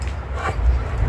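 A pug, a fairly large one, gives a short bark or yip indoors, one brief near sound over low room noise.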